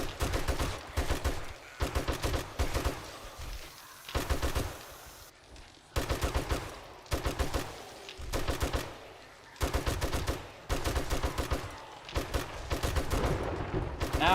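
Sustained bursts of M60 machine gun fire from 7 Days to Die, a low-level weapon loaded with armor-piercing rounds during a zombie horde night, come in long, loud, rapid volleys separated by brief pauses, close and continuous across the span.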